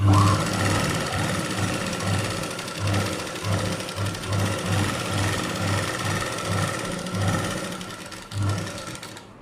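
A sewing machine stitches along the edge of a 36-inch blouse, its motor whirring loudly and steadily with short rhythmic bursts as the fabric feeds through, close up and with no talking.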